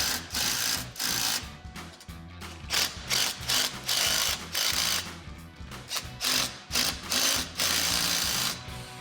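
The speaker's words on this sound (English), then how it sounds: "we can come back with our 15 millimeter socket and impact gun to tighten them fully" Impact gun driving a 15 mm socket to tighten the sway bar bolts on a Jeep Wrangler TJ during a Steinjager heavy duty rear sway bar install. Loud, close bursts of rapid hammering come in repeated pulses with short gaps between them, and no one speaks.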